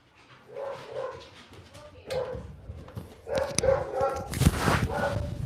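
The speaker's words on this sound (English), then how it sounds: "What's he barking about?" A dog barks several times in bursts, moderately close, mixed in among people talking; the barks are short and spread across the stretch, partly under the voices.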